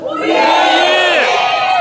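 Hundreds of voices at a climate justice march rally in Daejeon shout a slogan together in one loud, swelling unison cry that rises after a brief start and stays strong before easing slightly at the end.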